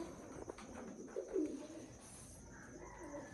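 Pigeons, a paired male and female, coo softly in low rolling murmurs at moderate distance, the faint calls rising briefly in the middle over a quiet background hiss.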